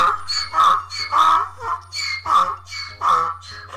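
A donkey brays loudly and close, repeated rhythmic hee-haw cycles of harsh wheezing calls that rise and fall for several seconds, with no talking.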